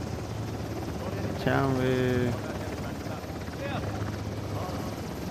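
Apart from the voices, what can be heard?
helicopter in video game Uncharted The Lost Legacy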